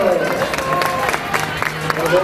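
A crowd applauds and cheers at an outdoor Basque memorial competition for juniors, veterans and women, with scattered claps and shouts mixed under nearby talking voices.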